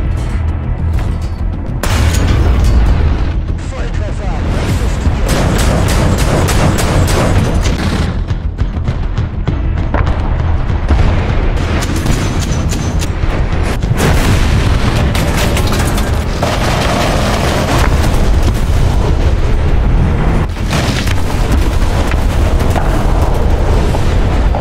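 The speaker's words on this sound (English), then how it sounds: "just insane what kind of explosions would come off these tanks after they would be fired from these SPAs" Loud, continuous barrage of booming explosions and self-propelled artillery blasts against World War II tanks in War Thunder, dense and overlapping throughout with heavy low rumble, without speech.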